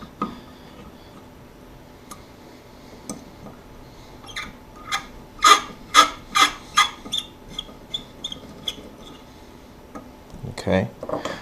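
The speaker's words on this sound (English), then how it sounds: "Once you've done that, you can tighten up your set screws here" Set screws on a bracket are tightened while fitting a VEPR-12 handguard, giving a run of sharp metallic ticks and clicks, several louder ones clustered together, close up against a quiet background with brief speech.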